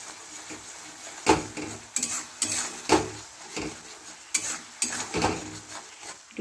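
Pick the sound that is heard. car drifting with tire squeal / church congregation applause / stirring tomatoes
stirring tomatoes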